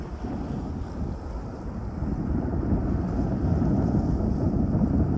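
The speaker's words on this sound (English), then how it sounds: "Got a little bit of wind coming through here" Wind rushing past a sailboat under full sail, a broad low roar buffeting the microphone and growing slightly stronger, with no one talking.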